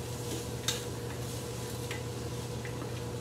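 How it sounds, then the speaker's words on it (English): Onions brown in a wok, giving a quiet, steady sizzle under a faint background hum, with a few light clicks of a utensil against the pan. "I got my onions browning here"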